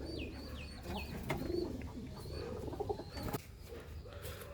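Native desi domestic pigeons coo softly inside an old loft, a few repeated low coos heard faintly over a constant murmur of background noise.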